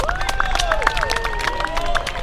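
Audience applause for an honoree at a celebration of his life's work: a steady, dense patter of clapping throughout, with sustained tonal voices or music running over it.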